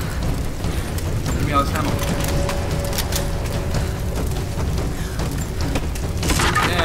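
Explosions in Rise of the Tomb Raider on Xbox One make a dense, continuous rumbling roar with scattered crackles. Someone speaks over the din.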